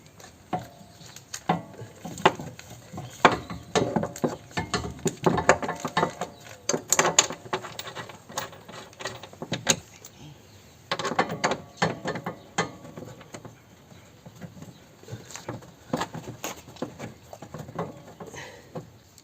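Quiet ratcheting and metallic clicking in irregular bursts come from tightening the upper mount of a rear shock absorber on a Peugeot 308, close up with short pauses between turns.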